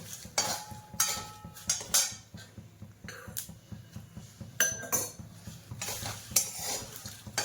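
A utensil scrapes and clinks against a pan in irregular strokes while dry-roasting spices with bay leaves for kala masala, with a faint sizzle underneath, close and fairly loud.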